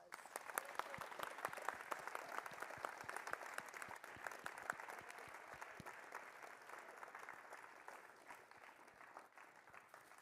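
A school audience of students applauds astronaut Duane "Digger" Carey with dense, sustained clapping from many hands that thins slightly toward the end.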